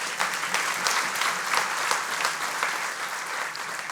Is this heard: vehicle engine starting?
no